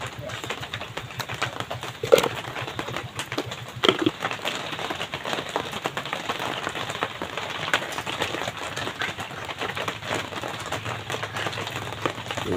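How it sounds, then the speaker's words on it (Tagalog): Steady rain falls at night on a tilapia fishing spot, a continuous dense patter filling the scene with a couple of sharper knocks and no talking. "Yan, naulan na."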